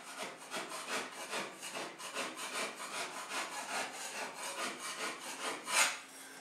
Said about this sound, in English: I want to show you an example that if I start scraping off very gently